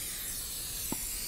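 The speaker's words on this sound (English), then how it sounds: "So I'll have you spray this pan for me." Cooking spray hisses briefly onto a baking pan in a home kitchen, a single short, faint burst against a quiet background.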